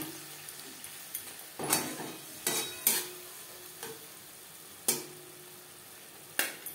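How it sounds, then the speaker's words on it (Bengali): Spices for a puti fish curry with onion and tomato are stirred in a pan over low to medium flame, giving a soft sizzle under sharp intermittent scrapes and clinks of a spoon against metal. "লো টু মিডিয়াম ফ্লেমে 3-4 মিনিট মশলা বেশ ভালো করে কষিয়ে নেব।"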